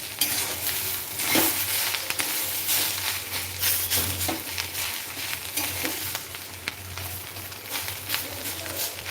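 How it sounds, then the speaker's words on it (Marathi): Onions sautéing in a pan for a Khandeshi dish, a steady crackling sizzle with bursts of stirring scrapes and a few utensil clinks, loud and close, no talking. "कांद्यांना परतवून घ्यायचं आहे बघा कांदे मस्त सोनेरी रंगाचे उमलेले आहेत"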